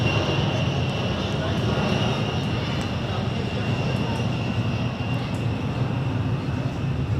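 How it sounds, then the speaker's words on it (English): Fixed-wing airplane passing overhead a couple of miles from an Air Force base, a steady broadband engine roar that stays loud and constant throughout, with faint voices underneath. "there's the first of what will be a bunch of airplanes flying over top"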